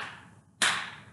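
In a music lesson on rhythm, a single crisp hand clap snaps loud and close. Its ringing tail fades over the next half second, following the decaying end of an earlier clap.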